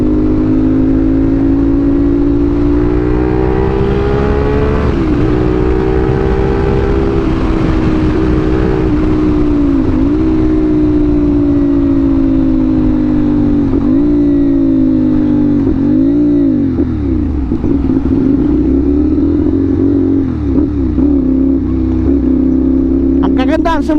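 A motorcycle fitted with an assist slipper clutch rides at speed, its steady engine drone rising and falling in pitch as it shifts and downshifts through the gears, loud and close.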